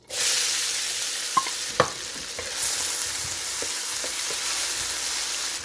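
Chopped onion frying in annatto oil in a pan for beef tripe kare-kare, a steady close sizzle throughout with a couple of sharp utensil clinks early on.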